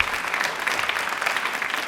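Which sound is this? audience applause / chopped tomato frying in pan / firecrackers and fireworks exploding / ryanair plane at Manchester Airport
audience applause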